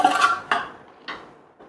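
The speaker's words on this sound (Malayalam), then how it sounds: "ചോറൊന്ന് ഇളക്കി കൊടുക്കുക." A spoon scrapes and knocks against a pot while cooked rice for mutton biryani is stirred, three or four sharp metallic clinks fading with light scraping between.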